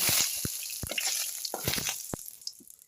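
Mustard seeds crackle and sizzle in hot oil while tempering a tomato kuzhambu, with a steady hiss broken by sharp irregular pops and spits close by.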